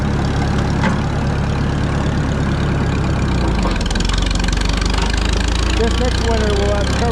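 Moline tractor engine chugging steadily nearby with a low, even putter that changes pitch and rhythm partway through as the gears are shifted up, a person talking over the running engine.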